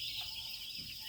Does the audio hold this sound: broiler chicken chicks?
yes